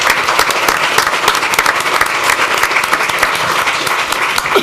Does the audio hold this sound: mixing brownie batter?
no